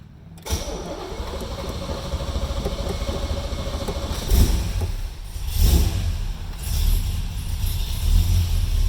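A car engine cranks and catches, then settles into a steady idle with several louder revs rising and falling. The engine is close and loud throughout.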